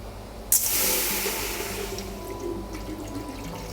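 Water gushes suddenly into a cooking pot, then pours in a steady, full splashing stream that slowly softens, with a low hum in the background.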